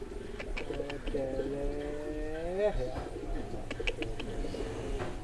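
Birds at a bird farm sing and call in a steady run of warbling, rising notes, with a clear close phrase near the middle, while people talk in the background throughout.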